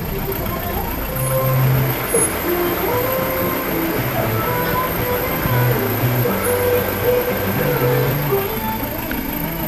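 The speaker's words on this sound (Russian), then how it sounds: "Кстати, автобус не такой широкий, специальный для таких улиц." A narrow bus built for tight streets rumbles along a Spanish street, its engine droning steadily and close, with gear and brake shifts and a person speaking over the traffic noise.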